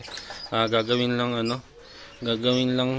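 Pigeons in a breeder loft give deep, close cooing calls in two drawn-out bursts separated by a brief pause, fairly loud and clear.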